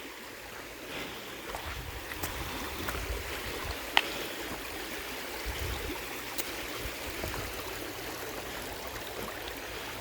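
Water flows steadily over rocks in a continuous, close, rushing babble with faint splashes.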